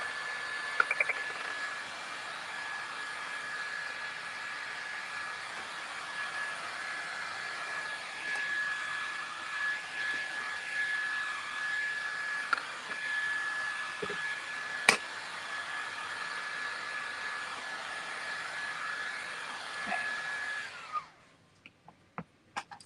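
A hair dryer runs steadily for about twenty seconds, blowing over raw umber paint on a canvas wall-art piece with a gold frame, a loud even whir with a faint tonal whine, then cuts off abruptly near the end.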